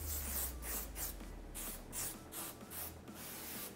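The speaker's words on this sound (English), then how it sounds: "Then I'm going to spray this onto the hair." Repeated short hissing hairspray bursts onto hair, close and fairly loud, in a quick irregular rhythm with a low hum underneath.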